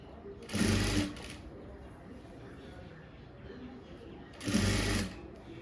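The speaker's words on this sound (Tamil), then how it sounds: "லேஸ் தைச்சி தான் ஆகணும்" A sewing machine stitches lace onto a blouse neckline in two short bursts about four seconds apart, with quiet handling and a low voice in the pauses.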